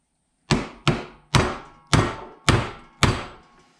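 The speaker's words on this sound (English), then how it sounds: "use a bearing driver." A bearing driver is hammered to press a new bearing into a 2011 Yamaha Apex snowmobile, six sharp metallic blows about half a second apart, each ringing briefly, close and with no voices.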